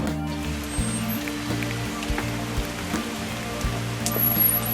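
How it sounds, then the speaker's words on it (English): Rain falling in a vegetable garden early on a late-June morning, a soft steady patter of drops with scattered louder taps under a faint low hum, heard close and alone. "I am out here in the rain."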